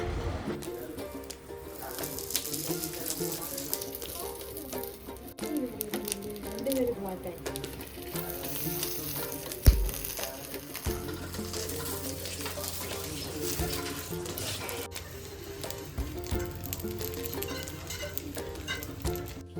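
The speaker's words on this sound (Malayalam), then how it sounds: "പാൻ വെച്ചിട്ട് എണ്ണ ഇതാ നന്നായിട്ട് തൂവി കൊടുത്തിട്ട് അതിലേക്ക് വെച്ച് നമുക്കിത് തിരിച്ചും മറിച്ചു വിട്ട് ഫ്രൈ ചെയ്തെടുക്കാം" Pearl spot fish (karimeen) frying in oil in a pan, giving a continuous moderate sizzle with occasional stirring and turning noises, heard beneath a person talking throughout.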